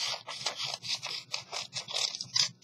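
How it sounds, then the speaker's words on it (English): Scissors cut through a paper sheet in a quick run of crisp, rhythmic snips and scrapes, close and fairly quiet with no talking. "take your top sheet right here, your front cover of your book, and I want you to cut it in half"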